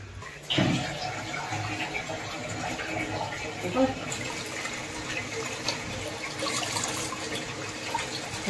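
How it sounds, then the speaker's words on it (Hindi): Lentils (dal) being washed in water by hand in a home kitchen, a steady swishing, running-water wash that carries on through the whole stretch, with someone talking over it. "ये धो रही हूँ दाल"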